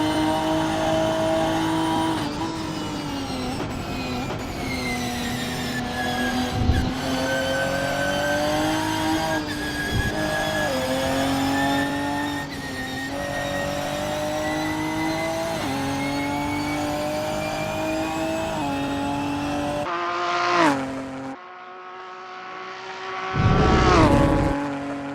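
A Ginetta G55 race car on a practice lap at Thruxton holds a loud, sustained engine drone with shifting pitch and brief gear changes, then cuts out before a final rising surge.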